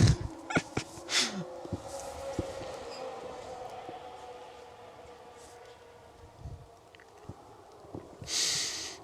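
A cat meows during a livestream, giving a few sharp clicks and a drawn-out cry early on, then a faint plaintive meow near the end over a steady low hum, with no talking.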